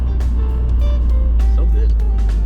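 The 1.9-liter four-cylinder engine of a 1998 BMW Z3 two-seater convertible roadster downshifts in winter, giving a loud, close, steady low drone throughout, with a voice faintly present over it.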